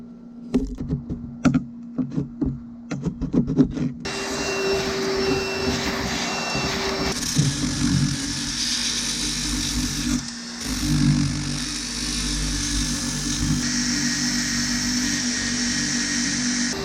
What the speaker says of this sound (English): So let's go ahead and grind everything out.